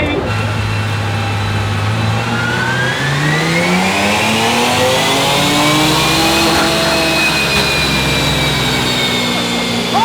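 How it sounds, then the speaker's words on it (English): A tuned Ford Explorer engine revs loud and close on a dyno, climbing steadily in pitch through a long sustained pull with a turbo-like whine, while people talk faintly underneath. "So very excited to see what this thing's gonna be making on the dyno."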